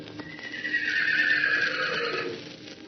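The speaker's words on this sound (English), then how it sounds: "the long, bugling neigh of his kindred" A long, loud horse neigh rising and bugling for about two seconds, then trailing off, with no other sounds around it.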